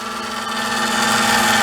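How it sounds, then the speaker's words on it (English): A small rotary gear fuel oil transfer pump runs steadily, moving fuel up to an emergency diesel generator day tank, with a continuous close mechanical whine and hum. "I can go ahead and start my fuel oil transfer pump. That's a normal sound."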